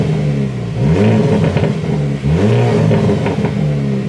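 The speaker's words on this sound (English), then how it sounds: "The stock exhaust is crazy for a 4-cylinder." A 2023 Hyundai Elantra N, a 4-cylinder car on its stock exhaust, revs loudly and close by in two rising pulls, each with a throaty rasp, with no talk over it.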